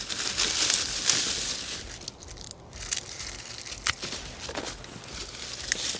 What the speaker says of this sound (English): I'm going to cut these top greens off.